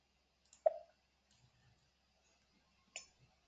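Two sharp, quiet computer mouse clicks, separated by a couple of seconds of near silence, with a faint low voice murmuring between them.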